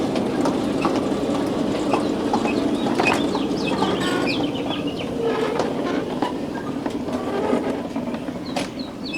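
A miniature ride-on train rumbles steadily along with faint rhythmic clatter, with scattered bird chirps in the background; no voices.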